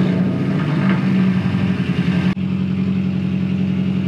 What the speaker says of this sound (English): I'm gonna let the car fully warm up.